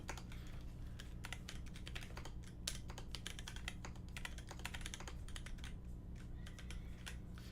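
Fast, uneven clicking of keys on a mechanical keyboard, a dense run of sharp, close taps with brief pauses, quiet overall and with no voices.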